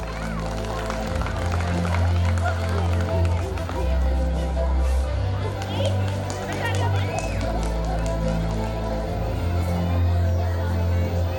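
An audience at a school annual day celebration claps and murmurs for the children, a steady wash of applause and crowd noise blended with music or a low drone, under some background chatter.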